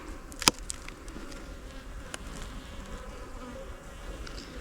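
Honeybees in an open hive during a gentle inspection with a hive tool, no smoke, on a hot day: a faint, steady hum with a couple of sharp clicks near the start.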